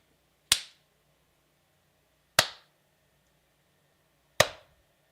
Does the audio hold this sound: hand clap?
yes